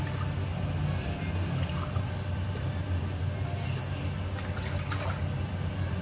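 Water pours steadily into a pan of sugar for several seconds, a continuous rushing splash close by with faint clinks.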